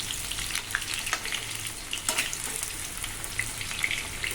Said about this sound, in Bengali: আর গরম মশলা, তেজপাতা, শুকনো লঙ্কা ফোড়ন দিয়েছি, দিয়ে আমি আলুগুলো প্রথমে ভেজে নিচ্ছি।